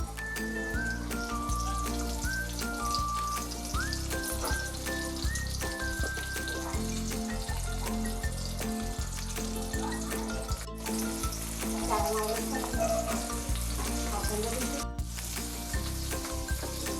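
Rava-coated mackerel frying in hot oil on a tawa, with a dense, continuous crackling sizzle and spitting pops that stay close and even throughout.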